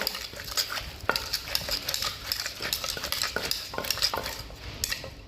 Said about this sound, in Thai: ใส่ถั่วฝักยาวนะคะ แล้วก็โขลกเข้ากันนิดหน่อย